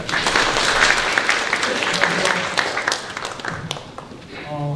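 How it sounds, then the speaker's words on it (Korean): Audience applause welcoming a speaker at a Hanyang University business graduate school admissions session in a hall, a full burst of clapping that fades toward the end, with some voices underneath. "큰 박수로 맞이해 주시기 바랍니다."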